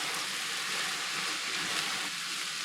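Cabbage hitting a pot of softened onions gives a steady, close hiss of frying that holds evenly throughout, with no voices over it.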